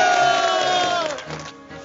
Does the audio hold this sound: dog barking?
no